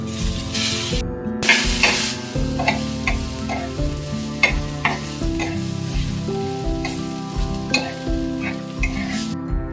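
Tomatoes frying in a pan with a steady loud sizzle and occasional stirring clatter, while music plays throughout and no one speaks.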